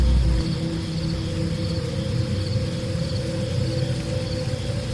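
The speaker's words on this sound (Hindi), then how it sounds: "जोरों की बारिश शुरू हो गई।" Steady, dense rain hiss pours continuously with a low rumbling roar underneath and faint chirping in the background.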